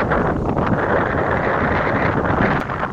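Wind gusting across an open riverbank char, a steady full roar of buffeting across the microphone with no breaks, loud and close throughout.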